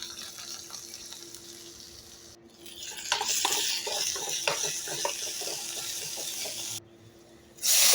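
Tamarind paste cooking in a pan, with a soft sizzle and an uneven run of scraping and stirring knocks in the middle, set against a quiet background and ending in a brief louder burst.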